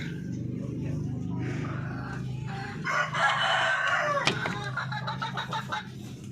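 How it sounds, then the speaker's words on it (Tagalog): A darag rooster crows loudly and close by on a Filipino backyard farm, a drawn-out call rising over steady low background hum, followed by a few shorter clucking notes. "Ating darag rooster."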